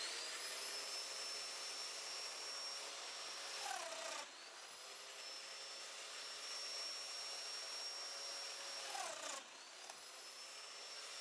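A Festool Domino joiner held upright with trim guides cuts mortises into small Shaker door pieces, giving a steady, loud motor whine with two brief dips where the cutter plunges in and withdraws.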